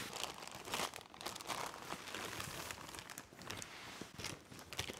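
Crinkling and crackling of the plastic bag wrapping a new camera tripod, handled close up in continuous bursts, with no voices.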